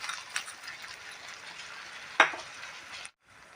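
Dried fish added to a frying pan while cooking taro stolons and sweet pumpkin: a steady, hissing sizzle with one sharp clink partway through, then the sound cuts off.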